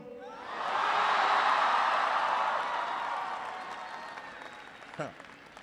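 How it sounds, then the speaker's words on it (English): A large university crowd at a University of Michigan speech breaks into applause, swelling quickly into a dense, roaring wash of clapping with a few cheers, then gradually fading over several seconds. "start with an easy applause line"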